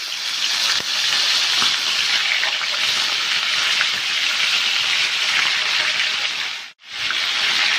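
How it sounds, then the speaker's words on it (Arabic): Chicken pieces laid skin-side down into a very hot pan of fat for Saudi chicken kabsa, giving a loud, steady crackling sizzle that continues throughout with one brief dip near the end. "هنزل بالفراخ فيها بسم الله."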